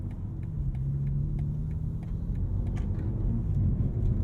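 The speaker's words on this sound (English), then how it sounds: "Turn signal sound." A BMW M4 CSL's turn signal ticks in a steady, even rhythm over a low engine rumble inside the car.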